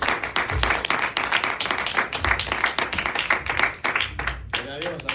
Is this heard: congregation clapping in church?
yes